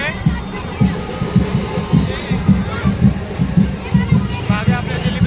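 A dense crowd at a Ganpati arrival procession on a jammed Mumbai road, a continuous babble of many voices with rhythmic thumping pulses throughout, while a nearby person talks over it.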